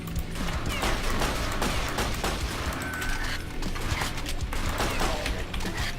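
An MG 42 machine gun fires in sustained bursts in Brutal Wolfenstein, a loud, continuous, dense rattle of rapid shots with no talking.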